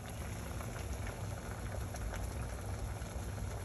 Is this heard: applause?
no